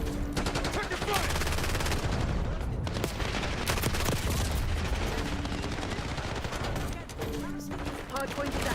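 Heavy continuous gunfire in the Black Ops 6 video game fills the clip, dense automatic bursts layered with in-game voice callouts during a hardpoint match.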